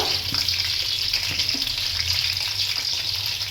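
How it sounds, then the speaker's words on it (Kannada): Eggplant frying in hot oil in a pan, a loud, continuous hissing sizzle that stays even throughout, with a few faint knocks underneath. "ಬದನೆಕಾಯಿನ ಎಣ್ಣೆಲಿ ಹಾಕ್ಕೊಂಬಿಡೋಣ"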